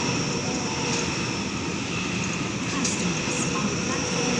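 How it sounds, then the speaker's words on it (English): A Hornsby-bound suburban train passes platform 2 at Killara station, a loud, steady roar of wheels and motors rushing by close at hand without letting up. "Hornsby service about to pass platform 2."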